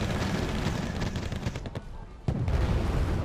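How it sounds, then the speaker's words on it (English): Heavy gunfire from T-72 tanks in the video game Wargame AirLand Battle, a dense run of booming shots and rumbling blasts that keeps going through the whole stretch. "And they're just moving up. Guns blazing. Good old T-72."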